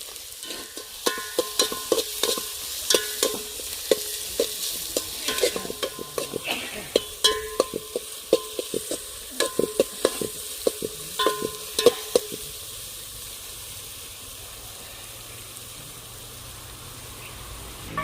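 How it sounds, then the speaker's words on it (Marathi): Onion roasts in a pot over heat as the base for a rustic goat-head mutton curry, scraped and stirred in irregular bursts over a soft sizzle. The stirring stops partway through, leaving only a quiet hiss. "कांदा भाजून घेऊ"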